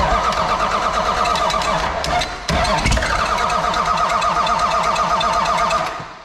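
A Cummins diesel in a 1979 Ford dump truck cranks and fires, settling into a loud, rough, rhythmic clatter that runs steadily after a brief stumble midway, then cuts off at the end.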